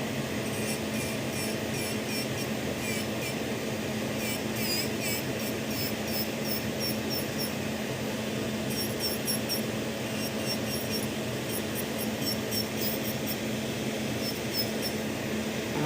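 A steady, high-pitched electric nail drill whine runs continuously at close range while removing acrylic nails, with faint squeaky tonal bursts rising and fading as it works.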